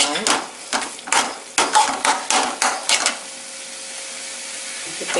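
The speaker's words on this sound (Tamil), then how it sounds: "இப்போ இந்த கத்திரிக்காய் பல்ப்பு அதில் ஆட் பண்ணிக்கலாம். அதை நல்லா மிக்ஸ் பண்ணிக்கலாம்." A spoon stirs roasted brinjal pulp into a tomato and onion mixture for brinjal chutney. About a dozen rhythmic scraping, knocking strokes sound against the pan, close and loud, then give way to a low steady hiss.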